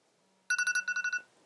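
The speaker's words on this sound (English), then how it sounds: "The alarms are ringing." In a Minecraft game, an electronic alarm rings in one short burst of rapid repeated trilling beeps, clear and fairly loud against near silence.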